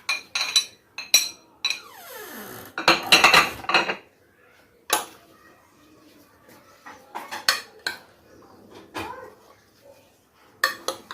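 Spoon clinks and scrapes against a bowl as fruit chaat with pomegranate seeds is mixed, a busy stretch of clattering strokes in the middle, then scattered lighter taps and clinks, close and fairly loud with no talking.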